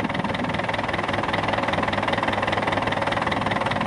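A boat engine idles steadily after hydrogen cleaning, giving a dense, even mechanical drone with a rapid regular pulse throughout, close and continuous with no talk.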